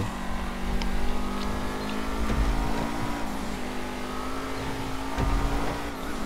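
A car engine drones steadily while driving uphill in GTA 5, the vehicle struggling on the climb, with a continuous low hum, slight revving changes and brief clatters, loud and close throughout.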